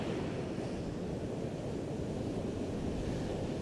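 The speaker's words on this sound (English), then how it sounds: "The waves that you see are from the Hurricane Paulette." Choppy surf from a hurricane-driven sea breaks steadily on shore, a continuous loud roar of churning waves mixed with onshore wind buffeting the microphone, with no voices.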